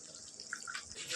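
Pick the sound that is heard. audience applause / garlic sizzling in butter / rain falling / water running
water running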